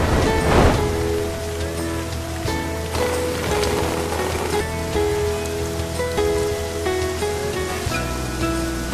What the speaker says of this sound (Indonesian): dan tiba-tiba turun hujan